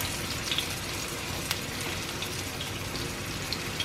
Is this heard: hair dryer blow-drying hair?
no